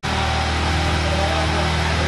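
A Yamaha MT-15 motorcycle idles steadily while warming up, a loud continuous engine drone with a low rumbling hum that holds unchanged throughout.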